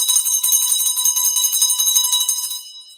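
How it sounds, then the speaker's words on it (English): A hand bell rings continuously in rapid, bright clangs for a super sticker donation during a live stream, held well back from the microphone, the ringing sustained alone before tapering off at the end. "I do hold that bell pretty far away from the microphone."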